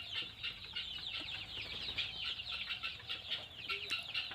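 A flock of about 150 mixed local chickens at a poultry farm in Sorbhog, Assam, clucks continuously in a busy chorus, heard close by while they are being fed grain.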